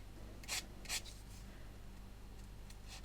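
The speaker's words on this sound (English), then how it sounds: "Get that sanding sponge into those grooves." A sanding sponge rubs into scribed grooves on a model surface, producing a few short, soft scrubbing strokes close by with quiet gaps between.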